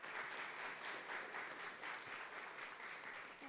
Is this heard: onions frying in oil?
no